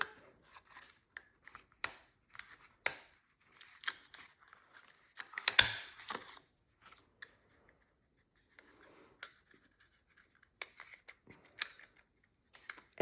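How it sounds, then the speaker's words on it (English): Scissors snip through stiff paint sample cards in a run of short, crisp cuts with pauses between, close and fairly quiet, with card rustling between snips and no talking. "you can cut out shapes, you know, out of any type of material, like cut shapes out of this"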